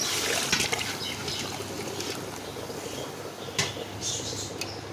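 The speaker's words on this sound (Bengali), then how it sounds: "400 ml মগের 9 মগ পরিমাণ পানি আমি এখানে দিয়ে দিচ্ছি।" Hot boiling water, measured out by the mug, goes into a pot of rice for chicken tehari, making a soft, steady trickle and splash that stays faint and close.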